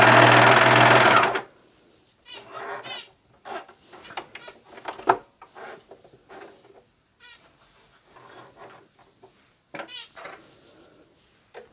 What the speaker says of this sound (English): lower your foot and start stitching.